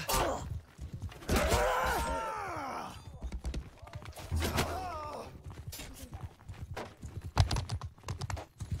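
Horse hooves in a multiplayer medieval combat game, Mount & Blade II: Bannerlord, irregular clip-clop thuds mixed with other game noises and voices, with people talking over them.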